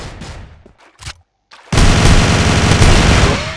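Rapid sustained burst of PPSh-41 submachine gun fire in the CrossFire shooter game, loud and close, following a few brief sounds and a short silence.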